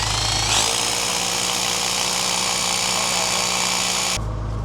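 A power drill bores into a precast concrete wall panel of a farm shed and binds on the rebar inside, a loud steady grinding whine that holds for about four seconds, then cuts off abruptly.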